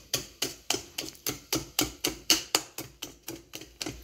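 Homemade waffle batter is beaten in a bowl with a utensil, giving a quick regular series of sharp close knocks and scrapes, about three per second, with no talking.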